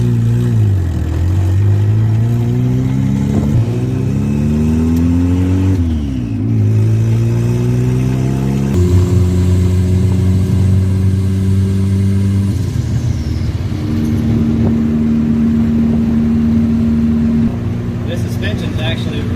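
A turbocharged Honda Civic on newly installed suspension drives down a road, its engine rising and falling through repeated gear changes, then holding a steady cruising hum with road noise, heard from inside the car.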